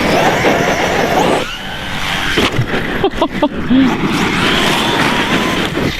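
An ARRMA Nero 6S RC car roars close by, the motor cutting out as it leaves a jump and flips, then whines back up on landing, with a voice briefly heard.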